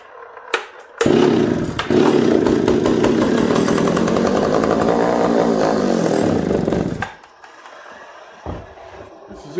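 An old John Deere 60V chainsaw, a barn find left sitting for 20 years, fires up after a couple of pulls and runs loud and close for about six seconds before cutting out, with quieter handling noises before and after.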